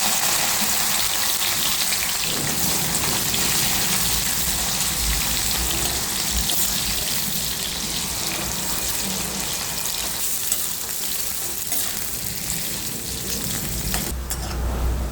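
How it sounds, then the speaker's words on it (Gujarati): Bitter gourd pieces frying in hot oil in a kadai, a loud, dense, continuous sizzle with faint crackles and occasional stirring, heard alone without talk. "હવે એની અંદર થોડા કરીને કારેલા તળી લઈશું."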